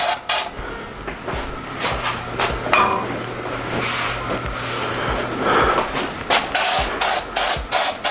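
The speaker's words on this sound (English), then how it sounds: "So I'm going to spray down the molds over the sink." Bursts of hissing cooking spray onto egg molds over a sink, several short blasts, the last few in quick succession, over clattering and knocking noises nearby.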